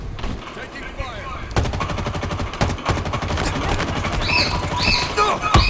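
Rapid automatic gunfire in Halo Infinite multiplayer, dense bursts of shots crackling loudly and nearly continuously, with a sharp burst midway and scattered game effects toward the end.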